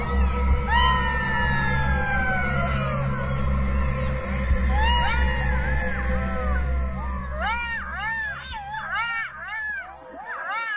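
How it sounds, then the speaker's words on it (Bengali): A pack of jackals howls from a bamboo grove at night, many rising and falling wails overlapping, growing into a busy chorus over a low droning background. "বাঁশ বাগান থেকে শোনা যাচ্ছে একদল শেয়ালের ডাক।"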